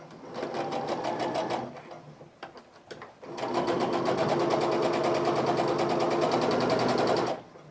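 A sewing machine stitches a quilt seam in close, rapid bursts: a short run, a pause with a few clicks, then a longer steady whirring run before it stops.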